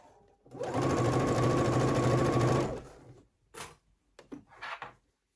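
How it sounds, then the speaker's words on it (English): A sewing machine stitches a small crease in a stretchy tank dress fabric, whirring loudly and up close in one burst of about two seconds, followed by a few short, fainter handling sounds. "I'm literally just sewing in that little crease"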